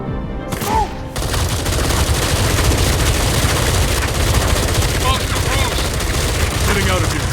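Loud, continuous volleys of automatic gunfire in Batman: Arkham Shadow begin after a short lead-in and pound steadily throughout, with shouting voices mixed in.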